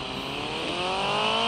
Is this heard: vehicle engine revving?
yes